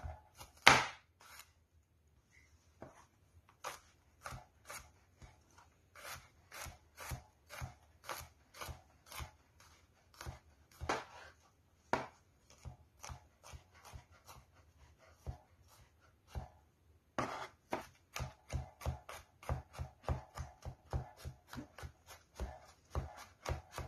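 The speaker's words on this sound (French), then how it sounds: "On commence par émincer les gousses d'ail." A knife chops garlic cloves on a cutting board with quick, sharp taps in short irregular bursts. The taps are close but fairly quiet, with brief pauses between runs and no talking.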